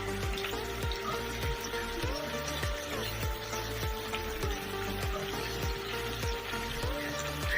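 Whole spices and chillies sizzle and crackle in hot oil in a pot as a mutton stew gets started, giving a steady frying hiss with a continuous popping texture throughout, close and fairly loud.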